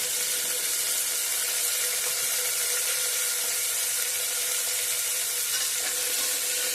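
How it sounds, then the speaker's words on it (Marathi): Finely chopped tomato sautéing in a pan for whole masoor curry, a steady close sizzle and hiss that fills the whole stretch with no talking. "आता टोमॅटो मऊ होईपर्यंत परतून घ्यायचा."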